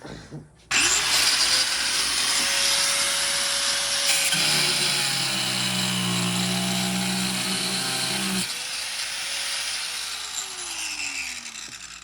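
Cutting tool grinding at a rusted bolt stuck to a 1996 Miata seat rail, a sustained harsh whine that runs nearly the whole time and shifts pitch midway, close and loud.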